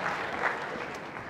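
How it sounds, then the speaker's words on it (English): Audience applause at a stage hypnosis show, a steady wash of clapping from a crowd heard up close for a moment, with no speech over it. "Give him that huge round of applause."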